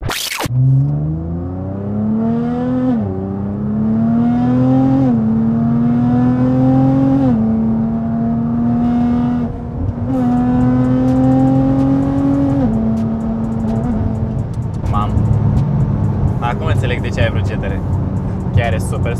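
A powerful Nissan GT-R engine, 750 horsepower, set to its most powerful mode, revs and climbs in pitch several times, loud and close, rising then dropping in repeated pulls before settling into a steady roar.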